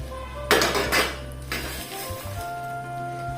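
Fried chilli seeds tipped from a pan onto a plate with the stove just switched off: a sharp metallic clatter of pan and utensil, then a few lighter scrapes and clinks fading into quiet.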